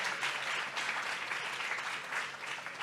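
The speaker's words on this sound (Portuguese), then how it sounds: "Também queria pedir um aplauso para os monitores de público" Audience applause at a book fair in São Paulo, steady dense clapping from a large crowd, fairly distant and even throughout, with no talk over it.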